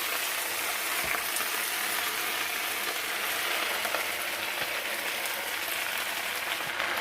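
Chopped spinach frying in hot vegetable oil in a pan, a steady, dense sizzle with a constant crackling hiss that holds at an even level throughout, without talk.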